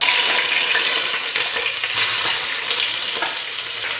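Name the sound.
sliced onions frying in hot sunflower oil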